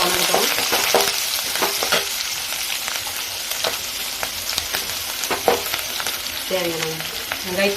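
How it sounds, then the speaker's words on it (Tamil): Onions frying in a pan for egg pepper gravy while being stirred, a loud continuous sizzle with frequent close scraping strokes throughout. "தேவையான வெங்காயத்து மட்டும், ஏன்னா உப்பு போடாத வெங்காயம் நல்லா வணங்கும், நல்லா கலர் மாறும்."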